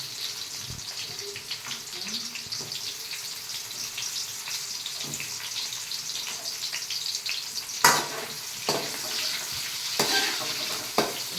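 Garlic and onions frying in a pan for chicken chilli give a steady soft sizzle with bursts of stirring and utensil scrapes near the end; no talking.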